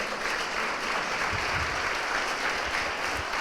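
A church congregation claps together for the Lord, a dense, steady wash of applause that holds evenly throughout.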